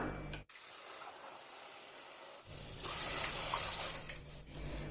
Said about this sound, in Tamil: இப்ப நம்ம தேவையான அளவு தண்ணி ஆட் பண்ணிக்கலாம்.